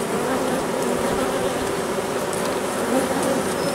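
Honeybees in a full hive that is ready to swarm give a dense, steady buzzing drone, loud and close, with no talking.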